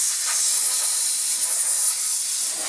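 Compressed air blasting dust out of a space heater, a loud continuous high hiss held close for a few seconds.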